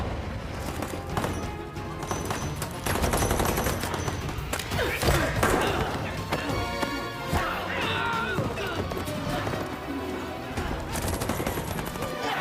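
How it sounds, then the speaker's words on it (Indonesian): Soldiers trade gunfire in a film battle scene, with dense, continuous volleys of shots and crashes filling the whole stretch, loud and busy, with music and effects layered underneath. "menyaksikan tentaranya baku tembak dengan pasukan Cohors"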